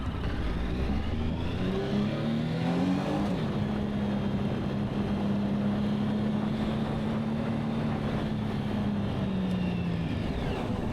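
Triumph Speed Triple 1050 motorcycle pulling away and accelerating, its engine note climbing steadily from close range, partly masked by heavy wind rush on the microphone throughout.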